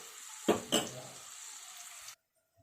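A tempering of mustard seeds, cumin, garlic and turmeric fries in hot oil, a steady close hiss with two sharp louder spits early on before it abruptly stops.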